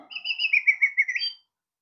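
An RC ornithopter bird toy plays a short electronic chirping sound effect, a rapid run of bright tweets lasting just over a second before it cuts off.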